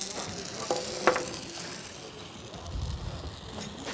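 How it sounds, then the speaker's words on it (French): A gas blowtorch flame at an open sculpture studio, set to a steady roar: a continuous broadband hiss-roar held at an even level throughout, with a faint brief clink partway through and no talk over it. "il faut régler le chalumeau jusqu'à avoir ce bruit-là"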